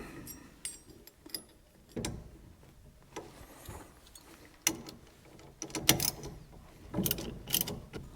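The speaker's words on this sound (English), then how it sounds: "we're gonna have to get the puller and put it on here and pull this hub off" A steering wheel puller is fitted to a hub and bolts are worked in, heard as scattered close metallic clicks, ratcheting and clunks with quiet gaps between them.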